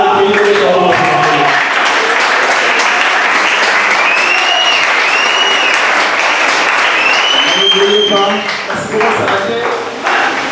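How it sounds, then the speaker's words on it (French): A church congregation applauds loudly and continuously, with voices calling out over the clapping, which thins near the end. "Le temps est parti, applaudissez pour le Seigneur."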